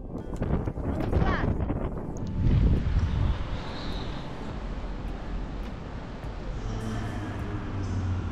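Wind buffets a microphone outdoors on an open, exposed stretch near Otranto in Puglia, giving a loud, steady low rumble with stronger gusts swelling around the third second.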